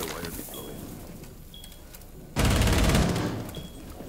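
Rainbow Six Siege gunfire on a stadium map erupts as a loud, dense burst of rapid shots after a quieter stretch of faint in-game ambience and brief electronic beeps.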